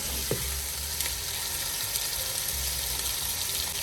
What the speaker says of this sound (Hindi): कीमे को हमने अच्छे से भून लिया है।